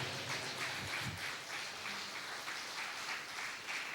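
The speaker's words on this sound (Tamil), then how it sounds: "நல்ல கைத்தட்டு." Congregation clapping during a live Sunday church service, a steady wash of applause that continues evenly throughout at moderate loudness, with no voices over it.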